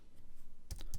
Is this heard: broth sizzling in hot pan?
no